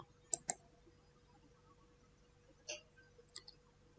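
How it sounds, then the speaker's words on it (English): Mouse clicks on a Windows taskbar: a quick pair of sharp, close clicks near the start, then a single click and a few fainter ticks, with no talking in a quiet room. "right click on taskbar, then click on taskbar settings"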